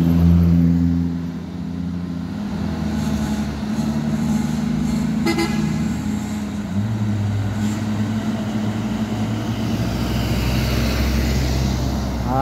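Heavy loaded trucks, among them an Isuzu Elf and a four-by-two Puso single-axle truck, labour up a steep road, their engines droning loud and steady with shifting pitch as they climb, plus a brief horn toot partway through.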